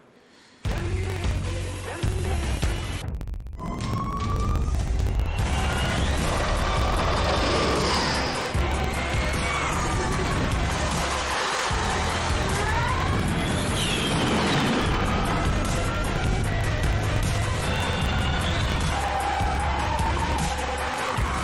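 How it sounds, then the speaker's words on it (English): A Ford electric van pulls a handbrake turn, with tyres squealing and skidding across the surface alongside a faint motor whine, lasting a sustained stretch at moderate distance. "Did a little handbrake turn on there."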